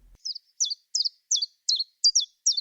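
A small garden bird sings clear, high chirping notes on a steady, regular beat, seven evenly spaced two-part notes with nothing else audible behind them.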